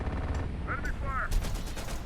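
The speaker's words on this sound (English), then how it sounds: "Enemy fire!" Enemy gunfire in the strategy game Terminator: Dark Fate - Defiance, a burst of rapid shots beginning midway, crackling over a low battlefield rumble with faint radio-style chatter earlier.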